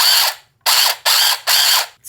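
A handheld sewing machine runs in four short, loud bursts of rapid mechanical clatter, separated by brief pauses, close up with no talking.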